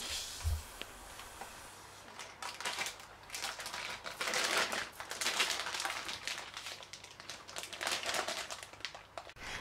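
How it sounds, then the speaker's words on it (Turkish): Plastic freezer bag holding frozen meatballs crinkles and rustles in dense, irregular bursts as air is drawn out through a straw, close and moderately loud, with no speech. "bir pipet ile poşetin havasını alıyoruz"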